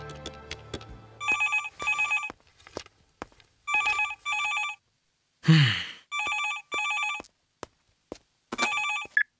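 In a comedy film scene, a telephone rings in repeated short bursts, about eight clear electronic trills with brief gaps, plus a few clicks and a sharp breathy noise between them.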